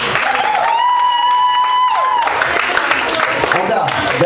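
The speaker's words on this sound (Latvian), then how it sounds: "Aplaus viņiem." An audience applauds at a karaoke contest event. Loud, dense clapping from a crowd runs throughout, with a sustained tone held over the first half before the applause carries on alone.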